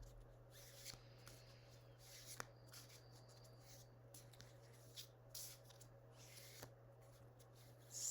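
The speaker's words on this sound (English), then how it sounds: "So I'm shuffling the Light Seers deck" A Light Seers tarot card deck is shuffled by hand in repeated soft riffling bursts, quiet and close, over a steady low electrical hum.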